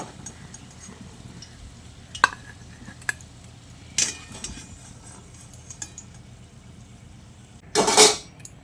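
Fried potatoes are lifted out of a wok of hot oil, with scattered light clinks and taps of a utensil, then a loud, rough scraping burst near the end.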